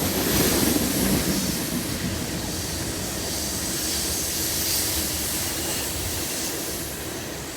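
A loaded BNSF coal freight train rolls past at Carkeek Park, a broad, steady roar and hiss of heavy wagons on the rails that holds nearly constant before easing slightly toward the end.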